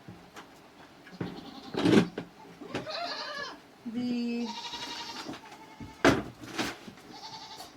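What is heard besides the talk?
goats bleating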